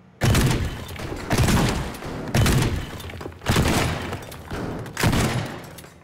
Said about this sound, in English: Maybe if I blow a hole in this wall with a shotgun.